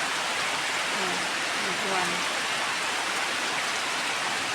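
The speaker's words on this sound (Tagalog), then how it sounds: "Malakas ang ulan." Heavy rain pours steadily over an outdoor spot where goat meat is being cooked, a dense hiss of drops with a brief voice near the start.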